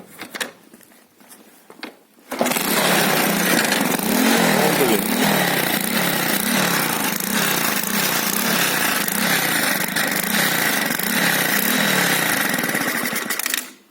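A small moped engine, a Delta, starts abruptly after some quiet handling noises, then runs at a steady, loud, rattling idle until the end.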